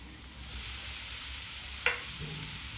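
Grated cauliflower stirred into onions frying in a pan: a steady, close hiss of sizzling with soft stirring scrapes and one sharper clack partway through.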